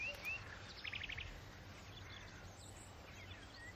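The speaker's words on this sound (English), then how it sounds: "that's a blackbird." Blackbird song in a countryside garden: a quick run of bright, high warbled notes near the one-second mark, fairly faint and distant, over steady outdoor background hiss with other birds calling softly.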